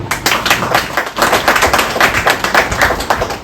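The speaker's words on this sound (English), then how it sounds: "Give him a round of applause." An audience at a live book reading applauds as an author is introduced, giving close, loud, rapid clapping with sharp individual claps, steady throughout.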